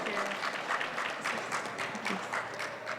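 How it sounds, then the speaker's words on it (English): A crowd applauds steadily at an AI for Good event at India Mobile Congress, a dense wash of clapping at moderate distance, with a voice speaking under it. "let's say a big round of applause"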